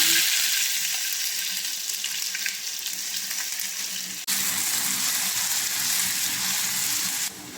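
Tomatoes hit hot oil in a pan for foul medammes and give a steady, hissing sizzle up close. The sizzle jumps louder partway through, and no one speaks.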